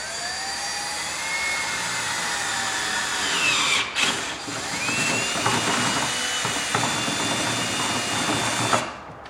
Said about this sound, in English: now we're going to take a 1/2-inch drill bit and drill a hole in the control panel